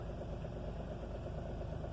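A Renault Triber's engine idles just after a cold start on a freezing winter morning, a steady low rumble with even mechanical pulsing that holds at a constant level throughout, with no voices.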